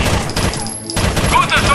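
Rapid bursts of gunfire in the tactical shooter video game Rainbow Six: Vegas, dense and loud with a brief lull in the middle, mixed with game sound effects.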